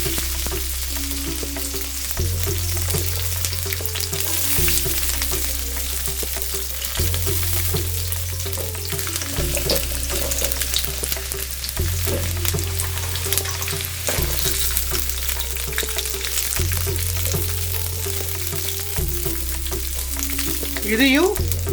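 About twenty peeled garlic cloves frying in sesame oil over a slow flame, a steady close sizzle with occasional stirring scrapes and a low hum underneath, no talk.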